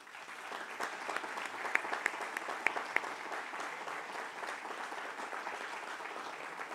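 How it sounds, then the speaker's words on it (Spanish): Audience at a national congress on human rights in the penitentiary system gives a warm round of applause, steady even clapping heard from a moderate distance with a few sharper individual claps standing out. "que reciban, por favor, de parte de todos nosotros, un cálido aplauso"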